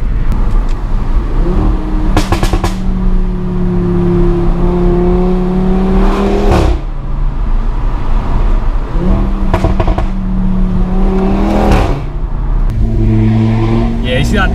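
Audi RS3 engine revving hard with audible exhaust valve noise, rising and falling in repeated pulls, each ending in sharp crackling pops as the throttle closes, loud and close from inside the car.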